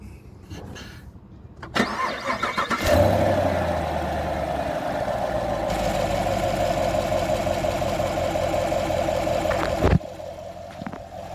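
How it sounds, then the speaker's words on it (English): A 2019 Chevrolet Camaro with the hood open cranks and fires up, its engine catching with a loud rising roar before settling into a steady, close, smooth idle that runs on for several seconds. "I'm going to do an engine bay startup"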